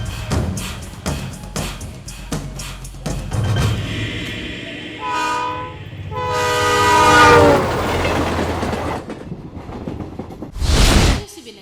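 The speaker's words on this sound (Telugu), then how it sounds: "ట్రైన్ నెంబర్ 2727 విశాఖపట్నం నుండి హైదరాబాద్ వచ్చు గోదావరి ఎక్స్ప్రెస్ మరికొద్ది నిమిషములలో 2వ నెంబర్ ప్లాట్ఫామ్ లకు వచ్చు" The Godavari Express from Visakhapatnam to Hyderabad pulls in at platform 2 with rhythmic wheel clatter, then long, loud horn blasts. A final sharp blast comes near the end.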